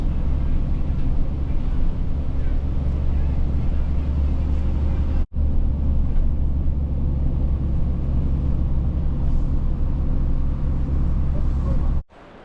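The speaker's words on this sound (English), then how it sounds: "I'm actually getting the bus up to the mountains" A bus climbing into the mountains in Kazakhstan gives a steady, loud engine rumble and road noise, continuous throughout with one brief dropout.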